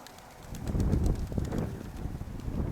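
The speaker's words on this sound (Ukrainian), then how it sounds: "Жінкин голуб, це подорвався." A pigeon bursts into flight outdoors during a pigeon-flying session, a short flurry of wing flaps close to the microphone with some wind noise around it.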